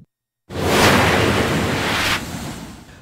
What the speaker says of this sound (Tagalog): Makikita ang pagragasa ng tubig baha sa sapa malapit sa Overflow Bridge